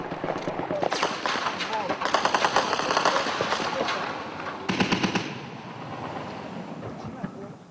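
Heavy gunfire crackles along a road during a battle, with rapid machine-gun bursts and scattered shots that are loud and dense, then thin out toward the end beneath a continuous rumbling background.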